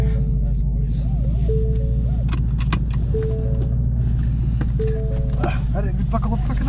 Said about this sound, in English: take this beautiful Mustang for a test drive